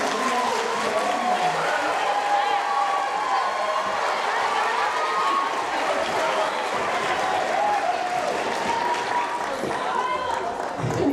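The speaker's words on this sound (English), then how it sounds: "Can we go ahead and give a round of applause for our ladies?" Audience at a winter band and chorus showcase gives a round of applause for the beginning band's female players, a continuous wash of clapping and crowd noise that holds steady and full for the whole stretch.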